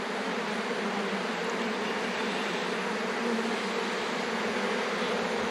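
A swarm of honeybees buzzes around a cut tree trunk section outdoors, a steady, dense droning hum that carries on unbroken and fairly close.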